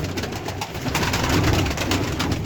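Tumbler pigeons coo softly in a loft, a close and continuous murmur of low calls with no speech.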